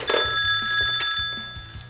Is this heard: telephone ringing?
yes